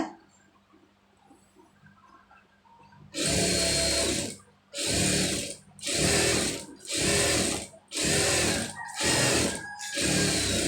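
Electric sewing machine stitching along a folded piece of cloth, six loud bursts of rapid mechanical needle chatter separated by short pauses, close up after a quiet start.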